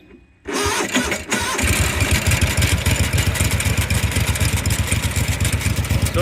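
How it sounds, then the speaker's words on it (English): A Simplicity 2210 V-Twin garden tractor engine cranks and catches, then settles into a loud, steady rhythmic idle close by, with the PTO driving a sickle mower. "once I start this thing, the PTO probably is going to be driving the sickle mower straight away"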